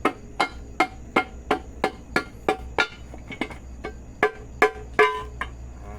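A rapid series of sharp rubber-mallet knocks on a stuck, glued Isuzu gearbox part, about fourteen blows in a fairly steady rhythm, struck up close over a low background hum.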